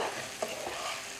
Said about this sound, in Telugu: చక్కగా కలబెట్టండి